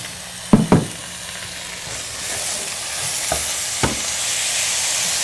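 A spoon scrapes and knocks through taco pie filling in a bowl while kids cook, with a couple of sharp clinks near the start and later taps, over a soft continuous stirring hiss; no talking.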